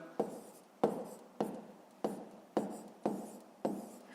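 Pen strokes jot numbers and decimal figures onto paper for a fifth-grade maths exercise, six or seven sharp scratchy bursts at a steady rhythm, each fading quickly, close and alone.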